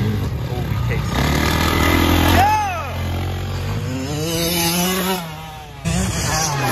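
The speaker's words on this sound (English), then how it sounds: "Carlton's out here riding his new bike" A 2022 KTM motorcycle is ridden nearby, its engine buzzing and revving in rising and falling surges, with a brief whistling sweep mid-way and outdoor wind noise throughout.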